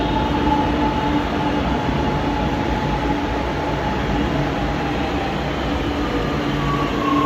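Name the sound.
Japanese bullet train passing at high speed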